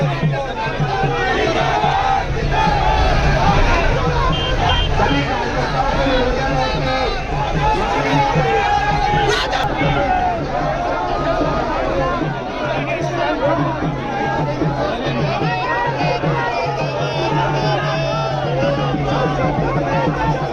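A roadside crowd gathered to welcome the chief minister, a dense, continuous babble of many voices with cheering and shouting, loud and close throughout.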